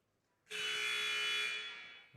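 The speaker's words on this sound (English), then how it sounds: "Buzzer sounds." A single loud, sustained electronic buzzer ending a timeout at a girls' high school basketball game blares for about a second and a half, then fades, in an otherwise quiet space.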